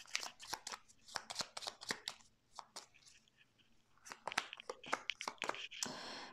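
Tarot cards being laid out and shuffled for a card reading, a quick run of close, crisp card slaps and slides that pause briefly midway and then resume, with no voices.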